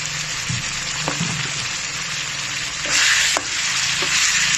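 Catfish stir-fry for a spicy Thai-Lao dish sizzling steadily in a pan as fish sauce goes in, with a brief surge of louder hissing and a few sharp stir clatters, close and continuous with no talk.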